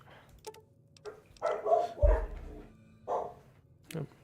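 Several dogs bark in short bursts indoors at moderate distance, with a few yips between the barks.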